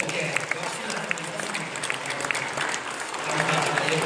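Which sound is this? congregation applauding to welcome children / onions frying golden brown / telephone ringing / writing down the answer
congregation applauding to welcome children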